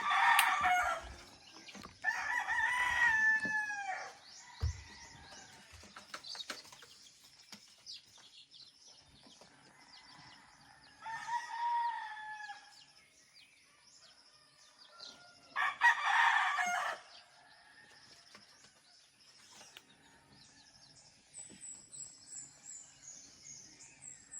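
Boston Roundhead chickens in a coop crowing in several long bursts with clucking in between, moderately close, with quiet gaps and no talking.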